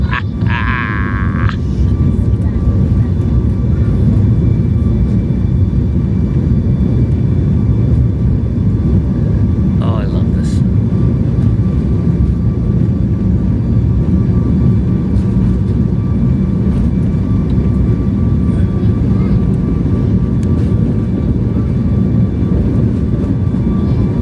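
An airplane accelerates down the runway for takeoff from Varadero, Cuba, heard from inside the cabin as a loud, constant, deep engine roar that fills the whole stretch. A brief higher whine sounds near the start.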